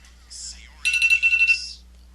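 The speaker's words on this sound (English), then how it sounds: "Oops, my alarm." A phone alarm rings in a quick electronic trill, bursts of repeated high tones rising to full volume after a short opening chirp, then stopping abruptly.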